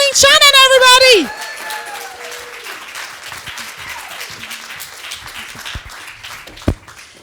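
Audience applause and cheering at a comedy show at an outdoor festival as comedian Pauline Shanahan comes on stage, a loud crowd burst in the first second, then a softer, scattered patter of clapping that continues and fades.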